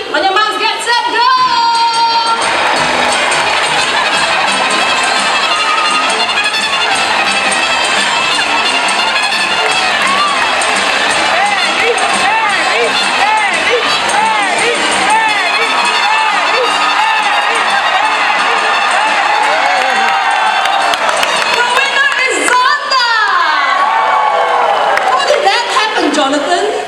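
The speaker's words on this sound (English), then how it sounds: "Supporters ready to cheer?" A bird park crowd of supporters cheers and shouts loudly and without a break through a fruit-collecting race, with excited children's voices and whoops rising near the end.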